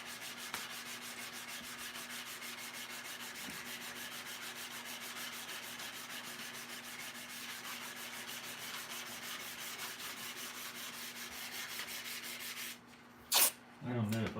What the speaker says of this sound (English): A lot of sanding.